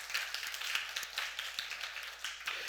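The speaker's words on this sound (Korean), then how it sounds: "하나님께 영광의 박수를 드립니다." A church congregation claps together during a sermon, a faint, steady patter of many hands that carries on for a few seconds without talk.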